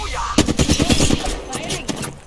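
Automatic gunfire from Apex Legends, a loud near burst of rapid rhythmic shots, then a brief gap and a few more scattered reports with faint game noise between them.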